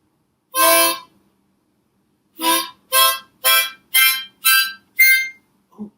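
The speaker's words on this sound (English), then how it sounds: "This is called a harmonica. Let's listen to the sound." A harmonica plays one sustained reedy note, then a pause, then six short, evenly spaced blown notes, all loud and clear with no talking.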